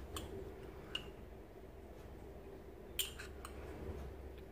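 A utensil clinks against a bowl while qatayef batter is mixed, giving faint, sparse taps and scrapes, with a couple of sharper knocks, over a low steady background hum.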